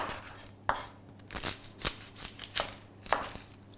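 Spring onions and onion being finely chopped, a series of crisp, separate knife strikes on a board at an irregular pace, close and fairly quiet, with no talk.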